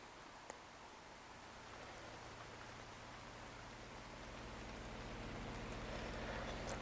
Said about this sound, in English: I hate the rain.